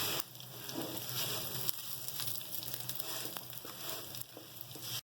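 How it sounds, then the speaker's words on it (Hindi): Vermicelli (sevaiyan) lightly frying in a pan for sheer khurma, a soft continuous sizzle with faint crackle, fairly quiet and alone, ending abruptly. "हमारी सवैयाँ फ्राई हो चुकी हैं, हमने बस हल्की सी फ्राई करनी थी"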